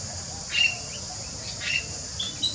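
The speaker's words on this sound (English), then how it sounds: "that's our magpies just arrived to say hello" Magpies calling outdoors in a few brief, faint, high warbling bursts over steady insect-like background hiss.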